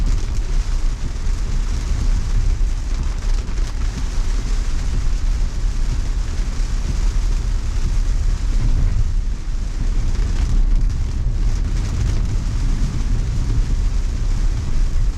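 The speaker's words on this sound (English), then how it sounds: "Hearing a little bit more thunder too, so we might be in the middle of a downpour." Heavy rain roars steadily and densely throughout, with a deep low rumble underneath that suggests distant thunder.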